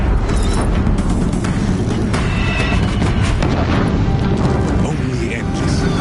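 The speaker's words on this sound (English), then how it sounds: "If the Deathbringers keep firing, this bridge will go." Deathbringer war machines in Horizon Zero Dawn fire explosive rounds near a bridge, making a dense, continuous, loud roar of blasts and rumble that never lets up for the whole stretch.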